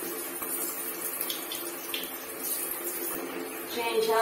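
A tap runs steadily while a Pinscher dog is bathed in warm water, a close, continuous hiss and gurgle of flowing water that swells slightly toward the end.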